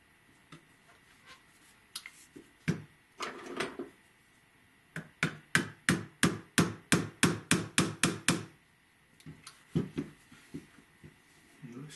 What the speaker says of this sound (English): I just set that down below the surface with my little pin punch here